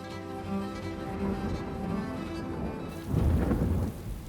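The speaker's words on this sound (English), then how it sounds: "it was pouring with rain" Heavy rain pours steadily in Uganda, a dense continuous wash with rumbling thunder swelling louder near the end, no voices present.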